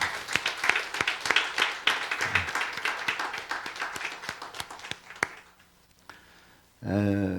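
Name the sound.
applause for volunteer drivers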